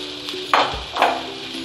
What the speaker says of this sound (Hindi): अब इसमें डालूंगी मैं राइस, बॉईल करके मैंने रखे 2 कप, वो इसमें डाल के फिर अच्छी तरह से मिक्स कर लूँगी।